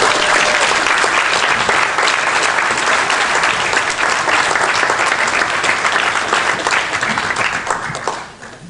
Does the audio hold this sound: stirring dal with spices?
no